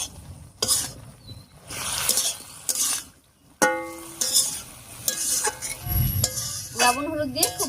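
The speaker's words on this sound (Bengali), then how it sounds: "লবণ হলুদ দিয়ে খুব ভালো করে মিশিয়ে নিয়েছি।" Pumpkin greens being stirred in a pan with salt and turmeric, a spoon scraping and clinking against the metal over a light sizzle, with intermittent loud clanks; no talking.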